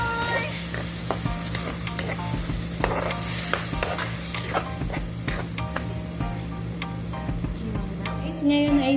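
Olive oil sizzles and crackles steadily in a pan for a creamy corn Alfredo pasta sauce, with stirring scrapes over it and a low steady hum underneath, close and continuous.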